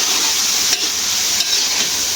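Okra frying in a pan gives a steady, close sizzle with a faint hiss throughout and two brief dips where it is stirred, with no talk.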